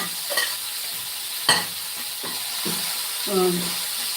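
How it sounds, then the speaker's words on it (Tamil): Brinjal (eggplant) sizzles steadily in hot oil in a pan. A few scraping stirs and clinks of a spatula are scattered over the constant frying hiss. "ஆயில் போட்டு நான் கத்திரிக்காய் வதங்கணும்ல"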